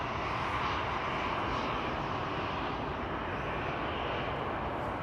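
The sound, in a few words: Boeing 747 departing from runway 24 at Amsterdam Schiphol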